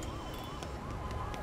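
An ambulance siren from the video game Psychonauts 2 wails faintly in rising and falling sweeps, repeating in a steady cycle under low background sound.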